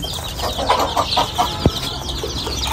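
Country chickens at a small farm cluck in short, repeated bursts at close range, with one sharper squawk partway through over a steady, busy barnyard background.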